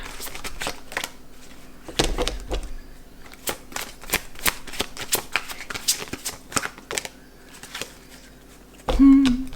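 A deck of oracle cards being shuffled up close, giving a long run of quick riffling flutters and snapping bursts that stop and start again, with a louder rustle near the end.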